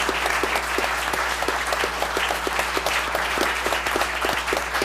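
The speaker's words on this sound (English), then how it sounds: "So a round of applause to our youth." Sustained, even applause fills a Scotch Plains town council meeting room as people clap for the neighborhood youth, a thick continuous patter over a low steady electrical hum.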